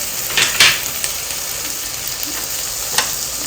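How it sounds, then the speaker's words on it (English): Carrots and other vegetables sizzle in a hot pan while being cooked for fried rice, giving a steady soft frying hiss with a few clinks and stirring scrapes, and no voices. "we are going to be adding our vegetables so that we cook them perfectly for our fried rice"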